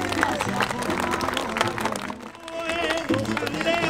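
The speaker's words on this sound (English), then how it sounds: "There we go, a huge round of applause." A crowd at a country fair breaks into applause, a dense patter of clapping mixed with chatter and a voice over the top, lasting a few seconds with a brief dip midway.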